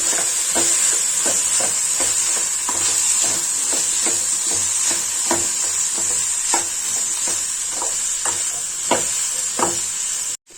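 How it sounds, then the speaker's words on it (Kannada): Beans stir-fry seasoned with chilli, coriander powder, turmeric and salt stirred in a pan: steady sizzling with regular scraping strokes of the spoon throughout, close and continuous. "ಹಾಕಿದ್ಮೇಲೆ ಒಂದ್ಸತಿ ಮಿಕ್ಸ್ ಮಾಡ್ಕೊತೀನಿ."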